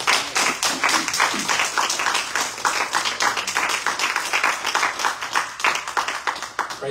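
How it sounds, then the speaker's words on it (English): Church congregation clapping their hands in praise during a sermon, a steady rhythmic run of sharp claps repeating quickly and evenly, close and loud, with no voices over it. "Give the Lord a hand clap of praise."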